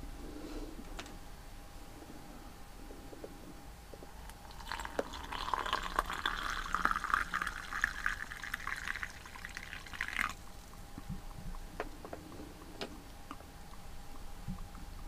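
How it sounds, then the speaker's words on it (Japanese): Hot water pours steadily into a cup over a Korean snack and rises to a soft, close hiss for several seconds before stopping. Faint ticks and drips sound around it. "ではお湯を入れます"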